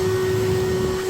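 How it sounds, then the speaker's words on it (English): A vacuum cleaner drones steadily underneath a 2016 Dodge Charger SXT with its seat removed. The motor whine is loud, close and unbroken. "Now it's a good time to vacuum underneath the car."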